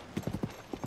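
Horse hooves clip-clopping in the video game Zelda: Tears of the Kingdom, a quick run of soft, even hoofbeats heard alone at moderate loudness.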